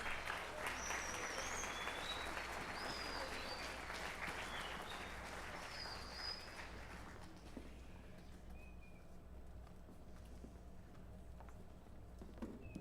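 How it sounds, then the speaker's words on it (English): Audience applause at a middle school spring band concert after a woodwind duet, a dense sustained clapping that fills the room for about seven seconds and then fades to a quiet hall with a few scattered claps. "Nice round of applause for our woodwind duet."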